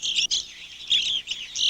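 Evening grosbeaks chirp at a backyard feeder in winter into spring, a cluster of bright repeated calls close by, coming in short bursts with brief gaps.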